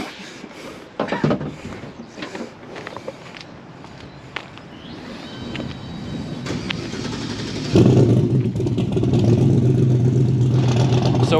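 A drag-strip race car at a test session, heard first as scattered clatter and footsteps, then an engine rising and settling into a loud, steady idle rumble in the second half.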